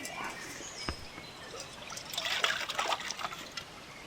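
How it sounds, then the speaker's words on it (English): Water trickles and splashes into a cooking pot at a bushcraft hunting camp, a soft pour that swells in the second half, close by with faint outdoor background. "Let me fill my pot up."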